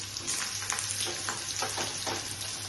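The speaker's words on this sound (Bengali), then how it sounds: "তেলটা গরম হয়ে গেছে, কালো জিরাটাও তাহলে আমি এভাবে দিয়ে দিচ্ছি।" Nigella seeds dropped into hot oil while starting a snake gourd curry with mustard, a dense continuous crackling sizzle, fairly faint and steady, with a low hum underneath.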